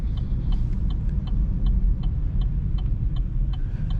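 A car drives along with a steady low engine and road rumble while a turn-signal indicator ticks in an even rhythm throughout, heard from inside the cabin as it prepares a right turn.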